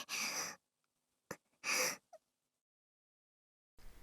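A girl in a visual novel video game pants in short, breathy bursts: two heavy exhales separated by a quick intake, close and soft, followed by silence and a faint noise at the end.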